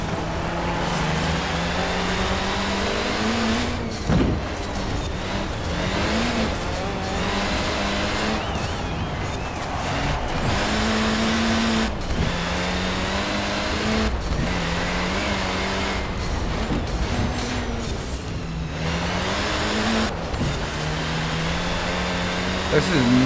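The Lancia 037 engine in Forza Horizon 4 drones and revs in repeated rises and falls as gears shift, loud and continuous, while someone talks over it throughout.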